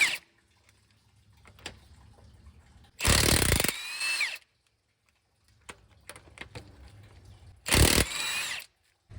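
An impact or power tool removing bolts from the cam gear of a Caterpillar 3406E diesel engine, with two loud bursts of roughly a second each, separated by quiet shop sounds and faint clicks.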